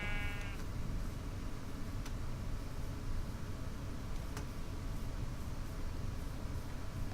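Sheep bleat in a video game, a short tonal call at the start followed by a steady wash of ambient game noise with a couple of faint clicks, no voices.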